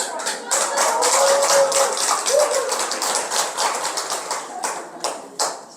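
Applause breaks out from an audience at a Buddhist temple lecture on Seon (Zen) Buddhism at Songgwangsa, a dense patter of many hands that fades and thins toward the end, with a few louder scattered claps.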